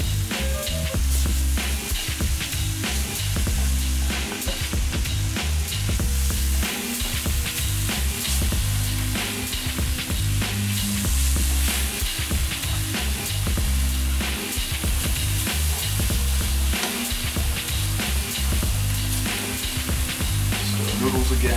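Mushrooms fry in a pan with a continuous loud sizzle, crackling steadily throughout alongside occasional stirring scrapes and clatter, close up.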